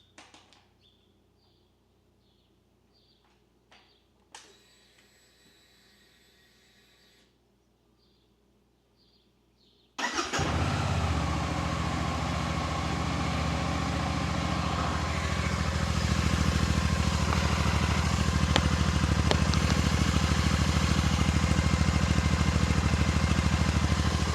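After some faint clicks and rustling, a Royal Enfield Classic 650 motorcycle engine abruptly fires up from a cold start and settles into a steady, loud, close idle that rumbles on continuously.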